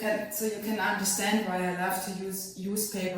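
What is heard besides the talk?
None of the usual background noises is heard.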